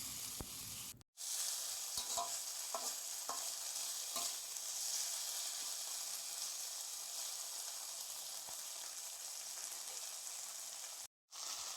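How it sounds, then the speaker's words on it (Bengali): Chopped tomato and spices sizzle in a pan for a fish-head muri ghonto, with steady frying hiss and a few soft scraping stirs, fairly quiet and without talk. "সব কিছু ভালো করে এবার মিশিয়ে নিচ্ছি।"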